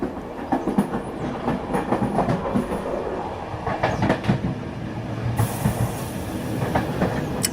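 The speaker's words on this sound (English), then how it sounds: "It's a train." A train rolls past with rhythmic clickety-clack from its wheels over the rails, heavy rumbling and occasional metallic squeals, sustained and fairly close.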